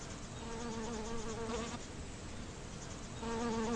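Steady, close buzzing of bees in flight, a continuous droning hum that swells and eases slightly without pause.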